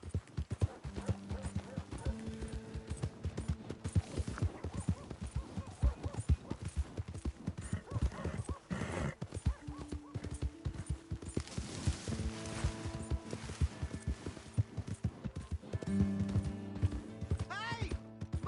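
A horse's hooves clip-clop in a steady walking rhythm in Red Dead Redemption 2, continuing throughout under intermittent game dialogue and other background sounds.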